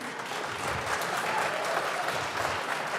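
Applause from a crowd in the Colorado House of Representatives legislative chamber, a steady wash of clapping that holds for the whole stretch at moderate loudness without letup.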